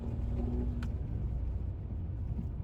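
A Citroen C3 1.2 manual with 83 hp pulls hard in second gear at full throttle, its engine a steady, continuous low drone with road rumble throughout, heard from inside the cabin.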